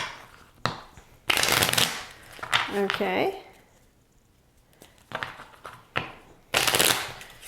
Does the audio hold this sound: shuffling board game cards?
yes